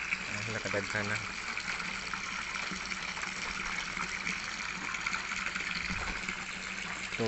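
Water gushes steadily and noisily into a container, a constant rushing flow that stays even the whole time.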